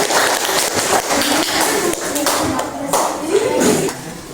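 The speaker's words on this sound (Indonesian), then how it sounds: "Tepuk tangan untuk kelompok 1." A group claps steadily for a few seconds, the clapping fairly loud and dense, with murmured voices underneath, for a group after its presentation at a teachers' training session.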